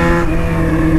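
Yamaha XJ6 motorcycle with a gearbox fault shifting gears by itself, a loud close steady engine drone with strong low harmonics and a slight shift in tone partway through, no talking.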